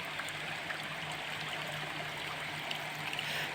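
Water flows steadily toward Budhabhuin waterfall in Sundargarh district, a faint continuous rushing and trickling with no voices.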